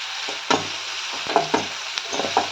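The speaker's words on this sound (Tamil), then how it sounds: "நல்லா வெங்காயம் நல்லா கொஞ்சம் வதங்கட்டும்" Onions sauté in a pan with a steady background sizzle, punctuated by several distinct stirring clacks and scrapes spaced roughly half a second apart, close and clear.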